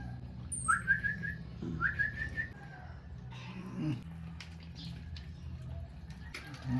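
A pet bird whistles two short rising phrases close by while eating banana, followed by softer chirps and scattered household noises in the background.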